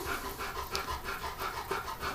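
A sick, stressed dog with something stuck that troubles its eating and breathing pants rapidly and rhythmically close by, in short even breaths with no voices over it.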